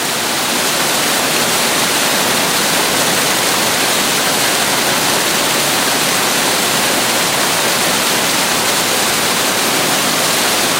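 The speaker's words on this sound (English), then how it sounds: "The beautiful Victoria Waterfalls" Victoria Falls in Dominica roars as a steady, dense wash of falling water, loud and close, unbroken for the whole stretch with no voices.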